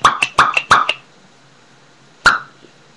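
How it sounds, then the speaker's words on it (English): Homemade cork gun firing corks, a quick run of five sharp close pops, then a pause and one more loud pop. "It makes really loud pops."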